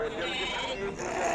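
Sheep bleat at a livestock market in Azrou, a wavering, nasal cry heard close amid crowded market chatter and voices.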